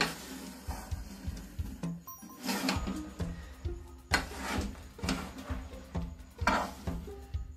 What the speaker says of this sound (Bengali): যাতে সব ঝুড়িগুলোতে গুড়টা পায়, সেই জন্যই ভালো করে নাড়তে হবে।